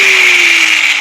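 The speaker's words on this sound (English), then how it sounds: "this is a 40 grit sanding disc" A loud, steady whirring grind of a 40-grit sanding disc against wooden bed rails, constant pitch with a high abrasive hiss, close by.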